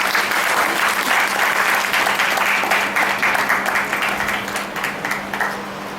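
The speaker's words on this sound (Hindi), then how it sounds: "जितिन मित्तल साहब जोरदार तालियों के साथ।" Loud, sustained audience applause fills a hall at a Father's Day school stage event, dense clapping holding steady for several seconds before easing slightly near the end, with a faint steady hum beneath.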